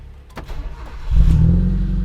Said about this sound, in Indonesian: suara knalpotnya udah cukup menggelegar ya, karena juga udah diganti knalpot aftermarket